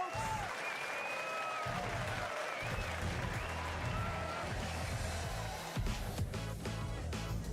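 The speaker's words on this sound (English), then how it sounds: "Give him a round of applause, folks!" Crowd applause in a quirky sock-themed video game rises as a steady clapping wash with some cheering, running beneath game music and sound effects.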